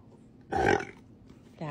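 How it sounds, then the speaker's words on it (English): One short, loud burp bursts out close by, followed after a pause by a brief voiced sound, all against a quiet room. "Can you give me a burp?"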